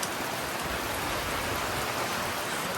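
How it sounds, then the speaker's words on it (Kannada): Heavy rain pours down steadily around a hilltop temple in Mysore, a dense, loud, continuous hiss of drops with no pauses and no voices. "ಫುಲ್ಲು ಜೋರು ಮಳೆ"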